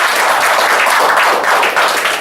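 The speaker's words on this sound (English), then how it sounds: "Round of applause, please, for Ashi." Loud, dense crowd applause for Ashi at a music and words performance, continuous close clapping with no pause.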